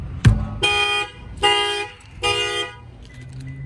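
A 2020 Toyota Camry's add-on shock sensor is set off by a bang on the rear tire: one sharp thump, then three loud, evenly spaced electronic alarm chirp bursts heard close and alone.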